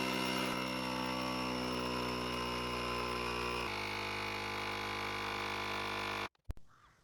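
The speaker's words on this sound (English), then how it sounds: "Let's try out the pump bit, which just screws in there." A portable battery-powered air pump with a screw-in pump bit runs with a steady, loud, close mechanical whine that drops in pitch partway through and then cuts off abruptly near the end, with no talking.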